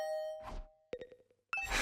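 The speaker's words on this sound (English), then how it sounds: "Hearing the doorbell suddenly ring it again and again." In The Hundred Line video game, a doorbell chimes with clear ringing tones and decaying overtones, followed by lighter dings and then another ring.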